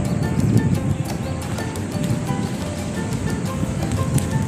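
Morning sea waves at high tide on Sam Phraya beach, Khao Sam Roi Yot National Park, rushing in a steady close wash near tourist tents, with brief clicks and taps over the surf.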